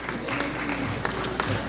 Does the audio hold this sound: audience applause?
yes